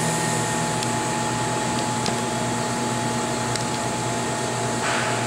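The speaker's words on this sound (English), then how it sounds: "as the turbo accelerates, the pumping is accelerated" Denton benchtop turbo evaporator with its turbomolecular vacuum pump accelerating: a steady, loud mechanical whir with sustained tones and a few faint clicks, constant for several seconds.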